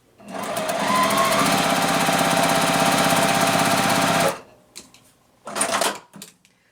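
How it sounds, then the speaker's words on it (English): A sewing machine stitches quilt fabric for a beginner garage block, a loud, rapid, even whir running about four seconds before stopping abruptly, followed by a couple of brief handling rustles. "All right, the first thing we're going to do is just sew this roof unit."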